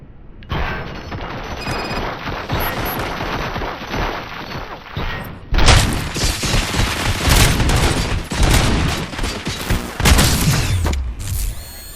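Gunfire in the video game RoboCop: Rogue City, dense sustained bursts of loud shots and impacts with mechanical clatter, close and continuous, intensifying after a brief pause.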